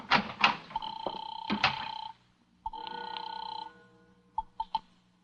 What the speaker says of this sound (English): It's ringing now.